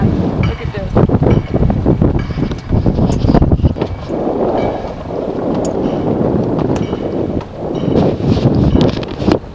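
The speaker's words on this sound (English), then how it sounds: "Holy cow, is it windy?" Strong wind buffets the microphone in loud, roaring gusts that rise and fall while out bowfishing, with a few voices talking under the noise.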